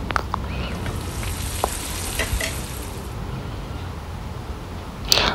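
Rohu fish head frying with chopped tomato, a continuous close sizzle with light intermittent stirring scrapes and a sharper clatter near the end.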